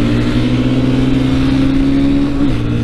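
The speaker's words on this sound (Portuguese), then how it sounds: "Deixa eu dar uma setinha pra cá e vamos passar a lombada e dar uma acelerada." Yamaha Fazer 250 and BMW G310R motorcycles accelerate on a road over a speed bump, a loud, steady engine drone whose pitch rises gradually, then dips briefly near the end as if shifting gear.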